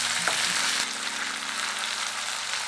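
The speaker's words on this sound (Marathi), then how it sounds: "कांदा भाजला, आता याच्यामध्ये टमाटर टाकून घेऊया।" Onion and tomato fry in a pan with a continuous close sizzle, and a low hum runs underneath.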